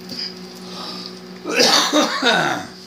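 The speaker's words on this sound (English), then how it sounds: "now that the coughing's over" A few harsh, close coughs in quick succession after a steady background hum.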